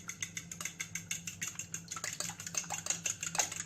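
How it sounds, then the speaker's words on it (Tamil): An egg is cracked into medicated rice and mixed, giving a quick, steady run of faint spoon clinks and wet stirring scrapes against a pot, close and without talk. "ஒரு முட்டையை உடச்சி ஊற்றி நம்ம நல்லா கலக்கிக்கலாம்"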